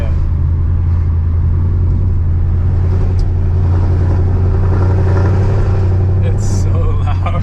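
Mercedes C63 AMG engine in sport mode rumbling and revving steadily while driving, a loud, continuous low growl inside the cabin with people talking over it.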